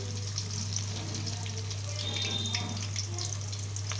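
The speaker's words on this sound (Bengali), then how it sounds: "তো চলো এবার এটাকে একটু উল্টে পাল্টে ভালো করে ভাজতে হবে" Chili chicken pieces frying in a pan, a soft, steady close sizzle with faint crackles over a low constant hum, no talking.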